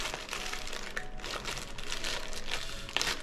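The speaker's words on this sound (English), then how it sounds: "let's move on to unboxing my new bypass valve" Cardboard box and plastic packaging crinkle and rustle steadily at close range while a bypass valve for a Subaru WRX is unboxed, with a few sharper crackles standing out near the end.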